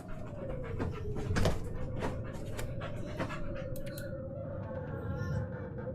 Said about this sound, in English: Dogs are going crazy in the room.